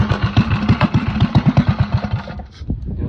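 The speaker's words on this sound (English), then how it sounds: "that's what happens, guys, when you install hot cams on a mini bike" Rapid, loud, uneven popping putter of a small mini bike engine fitted with hot cams, running rough close by before it stumbles and fades, then a brief sputter.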